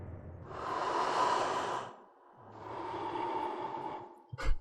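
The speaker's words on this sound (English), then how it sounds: "Girl, why are you breathing like that?" A female character in The Longest Journey breathes heavily in two long, loud, ragged breaths, each about two seconds with a short pause between, ending in a quick sharp snort or gasp.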